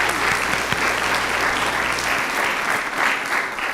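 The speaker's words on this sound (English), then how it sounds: "Another round of applause." Steady applause from the audience at a New Hanover County Schools board of education meeting, a continuous patter of many hands lasting several seconds with a low hum underneath.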